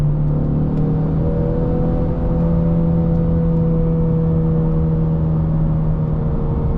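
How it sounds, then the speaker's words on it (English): Engine of a 2025 EcoBoost Mustang holding high RPM while driving, a loud steady drone with a constant tone that never drops back, filling the whole stretch without talk. "My RPMs are kind of staying up high."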